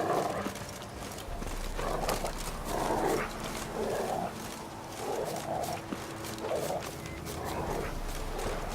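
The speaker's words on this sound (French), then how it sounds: "Qu'est-ce qu'il a ce chien?" Dog in The Witcher 3 giving a string of short mid-pitched whimpers and whines in regular bursts over a steady game ambience, with faint hoof-like clopping underneath.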